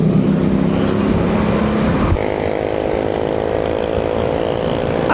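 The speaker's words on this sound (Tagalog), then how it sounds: "Ang daming sasakyan ngayon," Busy rush-hour road traffic with many cars picking up students after school: a loud, continuous engine drone and rumble close by, one vehicle's tone shifting midway as others keep passing.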